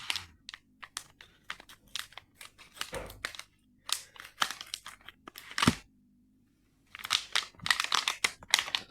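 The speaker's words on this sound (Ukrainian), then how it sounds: "Ось він приходить у такій упаковочці, в такому пакеті. Зараз будемо розпаковувати його." An Apex 3 inch drone is unpacked from a plastic packaging bag, with close, crisp crinkling and rustling in bursts, a few seconds of near silence in between, and no talk.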